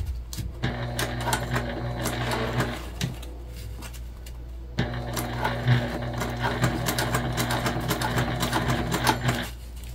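A sewing machine runs in two steady bursts, pausing briefly in the middle, while top stitching around a bump-out pocket on a mini pack, the motor's hum close and continuous.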